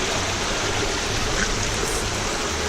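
Water pours steadily from a natural spring on a hiking trail, making a continuous broadband rushing and gurgling at moderate loudness.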